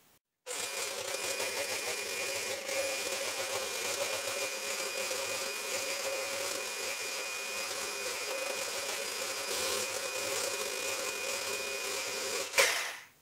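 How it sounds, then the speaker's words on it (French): An electric whisk beating sugar for a corn flour and raisin cake, a steady moderate motor whir running unbroken for about twelve seconds before a brief knock and cutoff. "on va venir fouetter le tout avec un fouet électrique"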